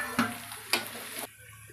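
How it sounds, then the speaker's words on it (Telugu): Noodles with cabbage deep frying in a pan: two brief stirring scrapes over a soft, close sizzle. "కొంచెం ఇది డీప్ ఫ్రై కావాలండి."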